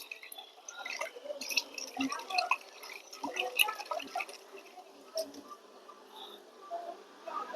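Water sloshes and drips as the roots of a small Chinese ficus bonsai are rinsed in a container during repotting, with irregular close splashes and trickles, and a few soft pops.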